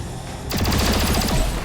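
Reloading and a rapid burst of gunfire in a turn-based video game, the shots crowding together in quick succession, loud and close after a short quiet start, with no talking over them.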